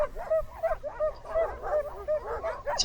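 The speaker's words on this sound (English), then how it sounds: "here's some of the dogs getting ready to get on the sleds" A pack of Alaskan sled dogs at camp whines and yips in repeated high, rising cries, a close excited chorus of whimpers and short barks with no talking.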